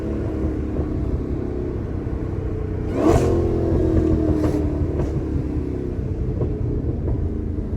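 Exhaust burbles from a supercharged Dodge Hellcat, a steady deep rumble that swells into a louder rev burst near the middle, then settles back to a low crackling idle-like drone, close and loud.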